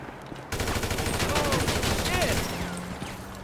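Rapid automatic AK rifle fire in GTA V crackles in a dense sustained burst after a brief quiet start, with metallic casing-like pings mixed in and fading toward the end.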